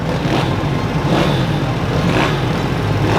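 A motocross motorcycle in the 160 class runs at a steady, loud engine drone close by. Its throttle holds fairly even for about three seconds, with only slight rises in pitch.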